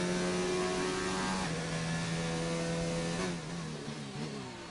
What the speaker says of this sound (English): Now coming to the tunnel section, where you hear the engine echo throughout the walls.